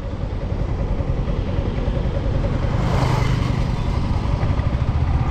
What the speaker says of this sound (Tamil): இப்போ நம்ம செகண்ட் கியரில் பாடிருக்கோம். பைக்கை மூவ் பண்ணுறேன்.